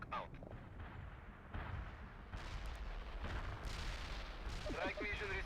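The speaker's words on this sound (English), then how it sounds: "Molotov firing mortars. we'll keep shelling them." Mortar and artillery fire in the strategy video game World in Conflict, several booming blasts and rumbling impacts spread across a few seconds, mixed with game effects.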